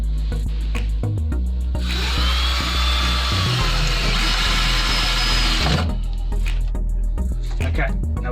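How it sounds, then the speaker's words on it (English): A power drill drives 50mm screws into pallet wood, a loud continuous whirring run of several seconds framed by short bursts of tool noise, with someone talking around it. "And now we're going to screw it in."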